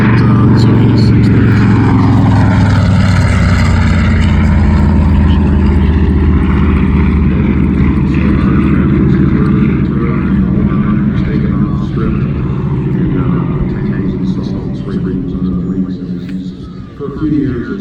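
Fly-by of a TBM Avenger, a World War II propeller aircraft, at an outdoor props and pistons festival: a loud, sustained radial-engine drone that slowly shifts in pitch as it passes, with people talking over it.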